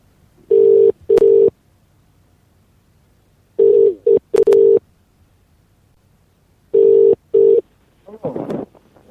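Telephone line tones on a live call-in radio show: three bursts of paired beeps with silent gaps between them, loud and close, followed by a short crackle of a voice as the caller connects.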